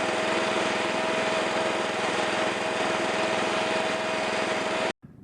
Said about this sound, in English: This mower is for very fine cutting at very low heights.